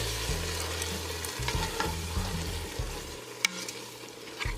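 A black bean tomato chili is stirred in a pot, producing a soft, steady sizzle with light scraping and a couple of sharper clicks against the pot. No one speaks.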